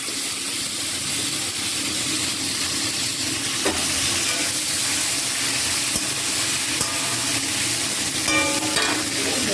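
Brinjal and broken chilies fry lightly in a pan, giving a steady, close sizzle with occasional stirring clinks and scrapes, continuous throughout and with no one speaking.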